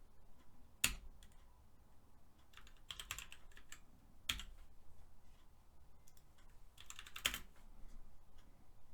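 Quiet typing on a computer keyboard: short clusters of crisp key clicks arrive in scattered bursts, with a few sharper isolated taps and near-silent gaps between them.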